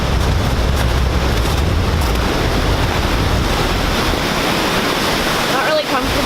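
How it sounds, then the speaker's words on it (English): A waterfall in New Brunswick roars loudly and continuously at close range, a dense rushing wash with wind buffeting the microphone. "This is like probably one of my favorite waterfalls in New Brunswick out of the few that there is."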